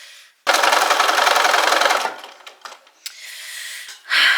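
A sewing machine runs in a steady loud burst while stitching along a fabric edge of a bohemian-style book sleeve, then stops, followed by scattered handling clicks and rustles of the cloth.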